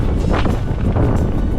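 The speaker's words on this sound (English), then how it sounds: "Windy up here though," Strong wind roars across the microphone on an exposed mountain trail in the Dublin Mountains, a loud continuous buffeting rush with no voices.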